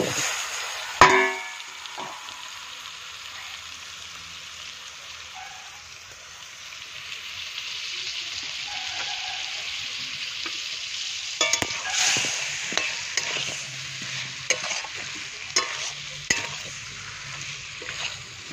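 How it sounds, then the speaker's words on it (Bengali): Potatoes sizzle and fry in a spice paste while being stirred, a steady close frying hiss broken by louder scraping and stirring clatters in the second half, with no talking. "এখন আলুটা ভালো করে কষিয়ে নেব"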